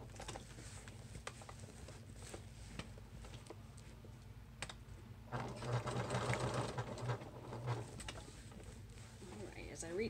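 Sewing machine stitching the end piece of a barrelette clutch purse, giving a rapid, even mechanical whir that runs fairly softly and grows louder and denser midway through, with a person talking quietly over it.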